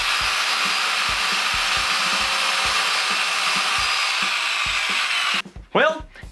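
A power saw cuts through a 2x4 clamped to a bench with a steady, loud, buzzing whine and regular low knocks, then stops abruptly and a person begins talking.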